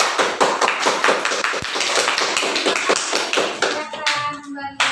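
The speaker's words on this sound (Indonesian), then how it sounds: "Kita kasih aplaus untuk kelompok 2" A classroom audience applauds a student group, dense hand clapping that runs steadily and then thins out near the end, with a few scattered voices.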